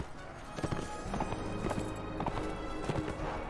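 Horses galloping in the video game Mount & Blade: Warband, a quick irregular clip-clop of several hooves over a steady background rumble, with a faint whinny.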